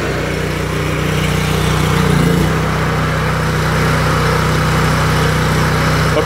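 A power wash trailer's engine runs steadily and loudly close by as the throttle is pushed up to full RPM, a constant droning hum with a slight swell midway and no voices.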